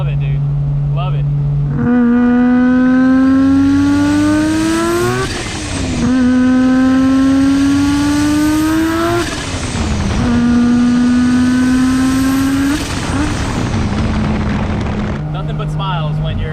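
A turbocharged Mazda FB RX-7 with a 20B three-rotor engine and an 80mm turbo runs loud and close, its revs climbing through three long pulls with a brief dip between each, then settling near idle at the end.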